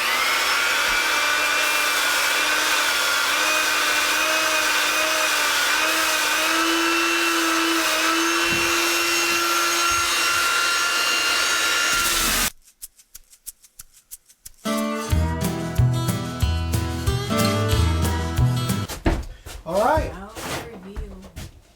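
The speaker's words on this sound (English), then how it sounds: "This is our little armadillo sander." A small armadillo belt sander runs steadily on a carved wooden eagle, giving a loud continuous motor whine and grinding that stops abruptly, followed by a brief gap and then clattering handling noise and wood being worked.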